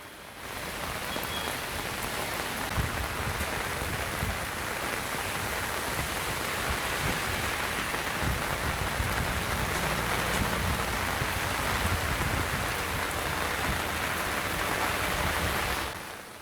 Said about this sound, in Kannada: ಅದರಲ್ಲೂ ಕೂಡ ಸಂಜೆ ಸುಮಾರು 4-5 ಗಂಟೆಗೆ ಆರಂಭ ಆದಂಥ ಈ ಮಳೆ